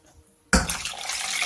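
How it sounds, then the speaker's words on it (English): Water pours suddenly into a cooking pan holding red lentils, tomatoes and turmeric. It starts as a loud splash after a quiet moment and settles into a steady rushing flow, close by with no talk over it. "That's a litre of water."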